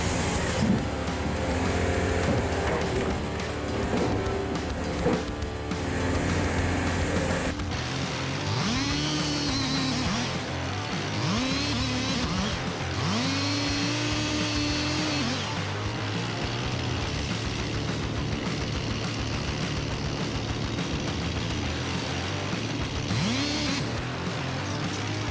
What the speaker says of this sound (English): the sudden wail of a chainsaw pierced the air, howling like a siren announcing the start of the workday